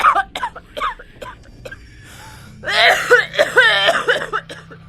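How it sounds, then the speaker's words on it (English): A woman coughs in a series of sharp, close bursts, first several separate hacks, then a louder rough fit of coughing with throat-clearing. "All night long I listened to Mom's coughing coming from my parents' bedroom."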